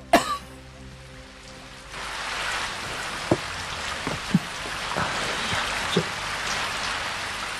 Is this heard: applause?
no